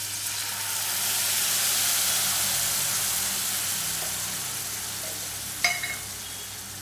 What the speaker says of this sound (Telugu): ఇప్పుడు లైమ్ జ్యూస్ వేస్తున్నాను